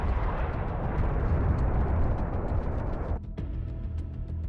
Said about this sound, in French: L'obusier a explosé peu après.